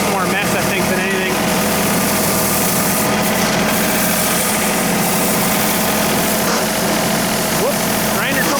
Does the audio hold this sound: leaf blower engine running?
yes